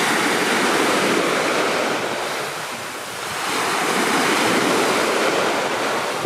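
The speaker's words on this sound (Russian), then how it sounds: "Шум моря, да?" Loud sea surf rolls in and recedes, a broad continuous roar that swells, dips briefly and builds again, mixed with wind buffeting the microphone.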